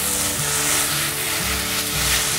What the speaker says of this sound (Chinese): 翻个面，再让豆包慢慢的煎。